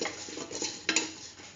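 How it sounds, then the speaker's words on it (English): A spoon stirring chickpea chayote stew in a pot, with soft scraping and one sharper clink against the side, close and fairly quiet. "Thoroughly mix."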